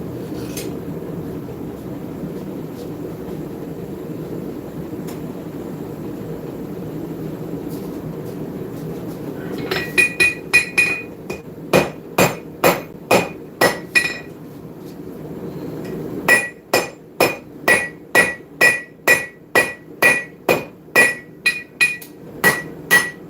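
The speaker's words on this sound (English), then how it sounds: "We're going to start that off by working on the horn with the rounding hammer" A rounding hammer forges the tip of a seax knife on the anvil horn: quiet at first, then bursts of sharp, ringing metallic blows in a fast, steady rhythm, close and loud.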